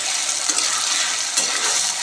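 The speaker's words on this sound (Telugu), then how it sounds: "ఇది బాగా ఫ్రై అవ్వనివ్వాలి" Potato pieces fry in hot oil, giving a steady close sizzle that rises briefly twice as the pieces are stirred, with no one talking.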